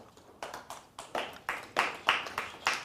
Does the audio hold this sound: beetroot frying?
no